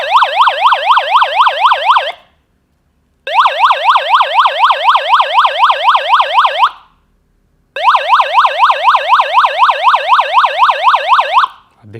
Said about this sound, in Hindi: आप देख सकते हैं सायरन कितना लाउड और कितना क्लियर इसमें बज रहा है।